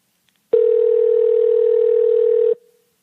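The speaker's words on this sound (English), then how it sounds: "Hey, we got our phone ringing, didn't we?" A phone line gives a single steady tone that holds loud and unbroken for about two seconds before cutting off, with no talking over it, heard during an incoming call to a UFO-themed podcast.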